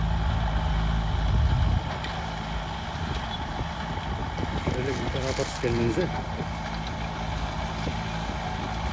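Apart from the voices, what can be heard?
John Deere 5095M tractor working with a 2.65 m hoe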